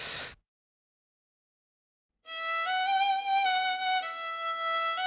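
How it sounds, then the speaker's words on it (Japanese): Old acoustic violin with rusty strings played as a simple melody, a clear bowed tone that begins after a brief noise and a pause of silence, moderately quiet and alone. "生のバイオリンの音ってこんな音なんですね。"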